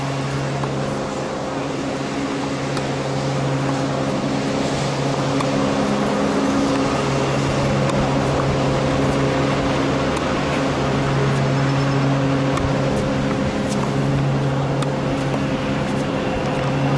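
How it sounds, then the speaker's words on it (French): A steady, droning engine rumbles on without pause, a low motor hum with constant tonal bands, loud and close throughout. "OK, donc un tracteur gracieuseté de la ville de Gatineau."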